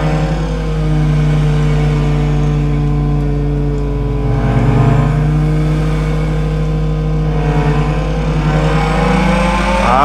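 A BMW racing car engine revving in Bus Simulator Bangladesh on Dhaka streets, with a loud steady engine drone whose pitch rises and falls through several rev swells over about ten seconds and no talking.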